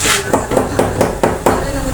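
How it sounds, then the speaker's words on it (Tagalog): Sharp rubbery taps from a rubber mallet setting tiles at a sink, landing in a steady rhythm, about six blows over two seconds, close by and fairly loud, with a faint hollow ring after each. "Pinapupukpok dito, parang martilyo pero goma oh."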